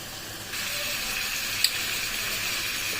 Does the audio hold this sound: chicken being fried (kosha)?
yes